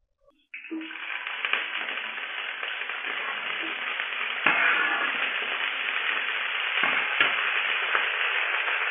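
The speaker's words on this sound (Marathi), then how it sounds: "तेलामध्ये आपण चांगलं फ्राय करून घेऊया, जास्तीत जास्त 5-6 मिनिटं" Broccoli bhaji fries in hot oil in a thick, heavy pan, a dense continuous hiss of sizzling that starts abruptly and holds steady, close and loud, with a couple of brief knocks and no talking.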